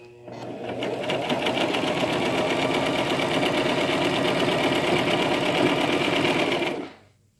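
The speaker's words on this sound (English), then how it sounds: "you're going to go ahead and just press gently. When you first start, you kind of want to do it, I think, a little bit slowly, and then it just glides through." A Brother XM1010 sewing machine stitches steadily through fabric, its motor and needle running as one continuous, fairly loud mechanical whir with a rapid rhythmic chatter, starting gently and stopping abruptly near the end.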